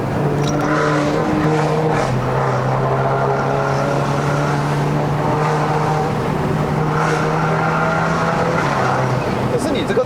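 A BMW F30 320i LCI with a twin-scroll turbo engine pulls hard uphill, its loud droning note holding and shifting through the gears while people talk inside the car.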